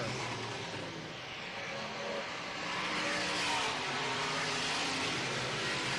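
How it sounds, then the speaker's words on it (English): Late model race cars roaring around Selinsgrove Speedway, a loud, continuous engine drone from a distance that swells as the pack comes down the front stretch, with no talking. "here comes Jeff Smith down the front stretch in the Thermatech number 88 car"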